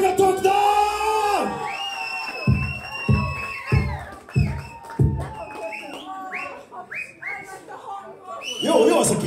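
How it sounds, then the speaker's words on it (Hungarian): Concert crowd in Boomerang Club, Szolnok, cheering, whistling and whooping loudly, with scattered yells and claps swelling and falling; a voice shouts over the crowd near the end. "Tapsot magatoknak!"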